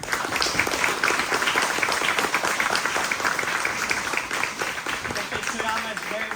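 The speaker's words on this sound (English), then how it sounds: "So give him a round of applause." An audience claps for Sensei Koyama at his judo 7th dan promotion ceremony, a steady crowd of hands clapping close by for several seconds, with a few voices mixed in.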